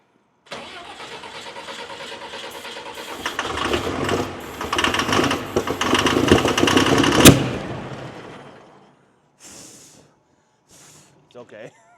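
High-horsepower pulling tractor engine cranks and catches, building into a rough, rising roar for several seconds before dying away, followed by brief faint sounds; close and loud.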